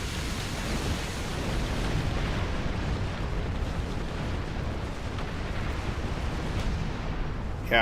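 Starship cannon fire in the Star Trek Online video game rolls on as a dense, steady barrage of rumbling blasts and bursts that stays loud and continuous, with no voices over it.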